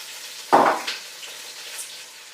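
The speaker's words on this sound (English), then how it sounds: "We're going to add in the silver beet leaves." Silver beet leaves dropped into a hot pan with garlic give a sudden loud sizzle that fades over a second or so into a softer, steady frying hiss with faint stirring.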